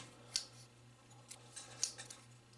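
Two small sharp metallic clicks of a folding knife lock releasing, close and quiet over a low steady hum, with faint handling noise between.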